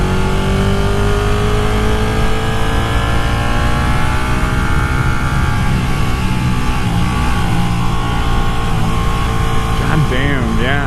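Ducati Panigale 959 sport motorcycle revving during a test ride, loud sustained engine roar with rising and falling pitch sweeps as the throttle is blipped, close and continuous throughout.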